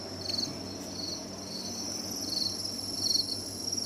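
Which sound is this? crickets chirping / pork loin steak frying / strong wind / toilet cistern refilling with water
crickets chirping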